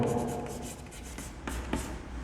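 Chalk or marker writing on a board in a math lesson, a steady run of close, scratchy strokes with a few sharper taps, no talk over it.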